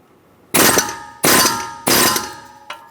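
An air chisel with a 36mm adapter hammers a fan nut on a 2003-2009 Dodge Ram 2500 5.7L V8, giving three sharp metallic clangs with ringing decay and a faint fourth tap.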